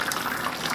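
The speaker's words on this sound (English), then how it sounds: "we need to pour hot water to the skin of the duck" Hot water poured over raw duck skin while making a Filipino-Chinese Peking duck, a short, loud gushing splash of liquid, close up and continuous, without speech.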